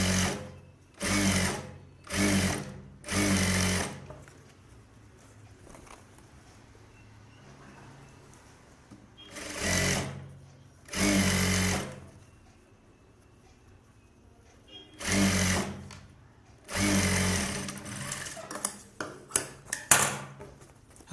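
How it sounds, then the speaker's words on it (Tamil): A sewing machine runs an edge stitch along the band of a blouse in a series of short, loud, close bursts with quiet gaps between them. "பட்டியில் அப்படியே எஜ்ஜு தையல் போடுங்க"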